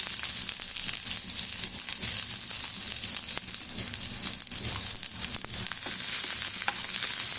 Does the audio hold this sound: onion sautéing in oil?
yes